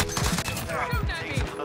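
A burst-fire FAL rifle in a first-person shooter video game fires repeated rapid bursts, sharp and close, in a steady rhythm across the whole stretch, with faint game sound behind.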